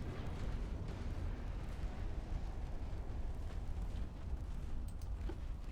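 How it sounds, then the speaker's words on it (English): Torpedo detonation in the naval battle game Ultimate Admiral Dreadnoughts, a sustained deep rumbling roar with heavy low-end turbulence lasting several seconds, no talk. "Torpedo detonation."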